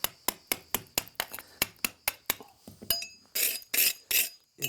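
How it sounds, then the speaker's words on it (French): A rigid mason's scraper works over a reconstituted stone terrace, giving a quick, regular series of sharp, close scraping knocks, followed by a few longer, louder rasping scrapes. "Alors là j'utilise ce qu'on appelle un riflard de maçon."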